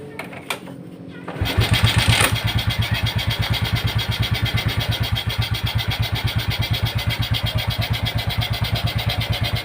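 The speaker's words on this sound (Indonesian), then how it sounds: "Kita akan hidupkan kembali motornya." A motorcycle engine, just reassembled with its valve clearance loosened, cranks briefly after a quiet pause, then catches and settles into a close, steady idle with a regular, even pulse that continues to the end.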